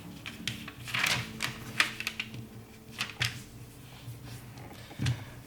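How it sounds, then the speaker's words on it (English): Origami paper folded in half while making a butterfly, a series of soft crisp crinkles and light taps spread irregularly over several seconds, close and quiet with no talk. "Flip it over, fold that paper up in half."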